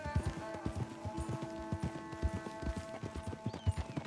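Horse hooves clip-clop in Red Dead Redemption 2, a quick, steady trotting rhythm of soft thuds close by, with a faint sustained musical tone underneath.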